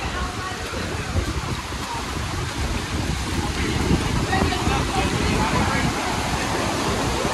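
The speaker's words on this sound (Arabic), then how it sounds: "هاي شلالة المي مالتها خيالي" A waterfall of sulphurous water mixing with clear water in Fethiye, Turkey, roars as a constant, full rushing noise, near and steady throughout, with no breaks in the flow.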